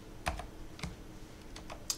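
Keys on a computer keyboard pressed in a few separate, sharp clicks, close by and alone, with a short pause between taps during a beginner tutorial for the ship-building game From the Depths.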